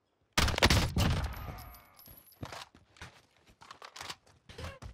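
An AUG rifle fires a loud, rapid burst in Call of Duty Warzone (Cold War), followed by scattered softer shots and footsteps trailing off into the distance.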